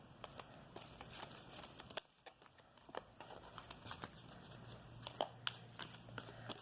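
Cards are shuffled by hand up close, with quiet riffling and repeated sharp flicks and slaps at an uneven rhythm.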